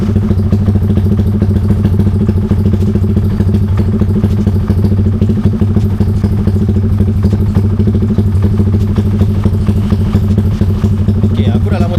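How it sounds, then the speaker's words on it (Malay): A Yamaha Y15ZR motorcycle with a 70mm engine upgrade rumbles loud and close through its exhaust, a steady throaty engine note that runs without pause. "Bunyi exhaust ni."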